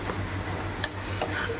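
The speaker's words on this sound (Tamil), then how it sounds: "இது நீரை கரண்டியிலேயே இப்படி மசிச்சிடணும்" A ladle mashes food in a pot of tamarind water with green chillies, making a quiet, steady stir with a faint sizzle and two brief metallic clinks against the pot. No voices.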